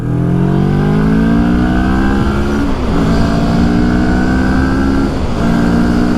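A Mori motorcycle engine revs up steadily, pitch climbing, dropping briefly at a shift, then climbing again; loud and close with no talking.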